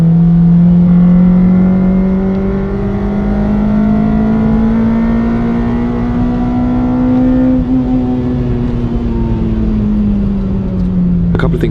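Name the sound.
Honda Civic Type R EP3 engine revving on track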